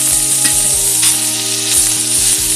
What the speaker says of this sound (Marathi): तेल टाकल्यामुळे कांदा चांगला पटकन फ्राय होतो